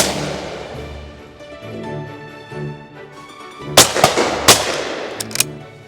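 A William Powell Perdix shotgun fires outdoors, giving two sharp, loud reports close together, then a fainter crack after a calm background stretch.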